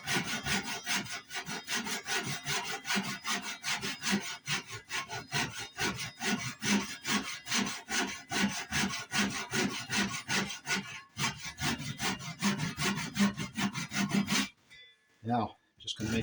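Hand saw cutting down into wood for a mortise, a steady, close rhythmic back-and-forth rasp of repeated strokes that continues without pause, then stops near the end.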